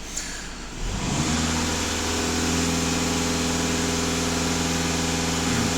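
A Skoda Octavia VRS idles steadily during nonstop particulate filter regeneration, a close, even mechanical hum with a low drone that settles in after the first second and holds constant throughout.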